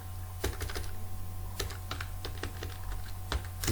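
Steady typing on a computer keyboard while writing web code, a quick irregular patter of close key clicks with a few heavier strokes, heard alone without talking.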